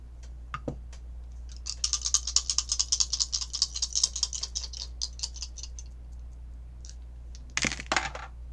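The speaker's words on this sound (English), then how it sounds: "So now I'm gonna do the astrology dice here." Astrology dice rolled and tumbling on a tabletop during a live tarot and astrology reading, giving a close, rapid series of clicks and rattles for several seconds, then a brief final clatter as they settle.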